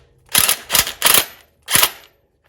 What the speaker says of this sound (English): I'm grabbing my Craftsman impact, and again, I'm going to loosen that bolt